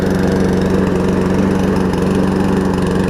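A Husqvarna AWD push mower engine runs steadily at close range, a loud, even mechanical drone with a fast regular pulse and no talking.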